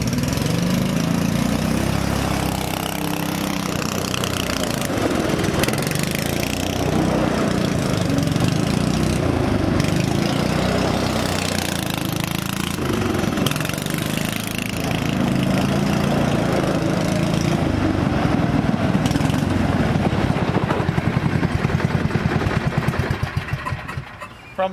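Free six-wheeler off-road vehicle with its engine running steadily as it drives over gravel, a continuous loud motor drone with crunchy rumbling that fades away at the end.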